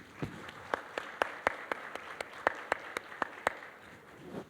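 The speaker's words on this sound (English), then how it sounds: "all the mothers sitting out here also deserve a round of applause" Scattered applause from a small audience at an indoor talk, a few distinct faint claps ringing out irregularly for several seconds rather than a full ovation.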